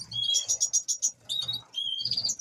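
A pet bird gives bright, close, high chirps in quick rapid bursts separated by brief pauses, with soft low rustling beneath and no talking.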